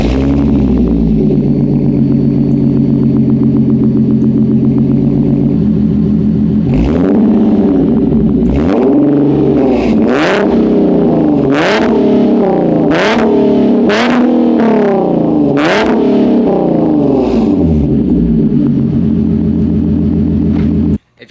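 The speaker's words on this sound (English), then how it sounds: "we'll post some more exhaust clips" A Nissan 370Z on air suspension idles with a deep exhaust burble, then gets revved repeatedly, about eight sharp rising-and-falling revs in a row, loud and close, before cutting off abruptly at the end.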